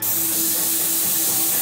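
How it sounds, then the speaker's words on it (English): Customised airbrush gun spraying nitro synthetic enamel paint, a steady, close, unbroken hiss of air and paint mist carrying a thin constant tone throughout. "is that a customised airbrush gun I see you've got there"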